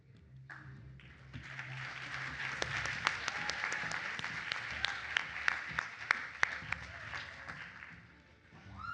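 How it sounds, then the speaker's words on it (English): Audience at an awards ceremony applauding and cheering steadily, a dense sustained roar of clapping with sharp individual claps popping out, swelling through the middle and easing off near the end. "how you guys are supporting each other and like cheering so loudly"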